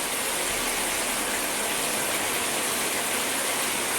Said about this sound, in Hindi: महसूस कीजिए इस पानी के फ्लो को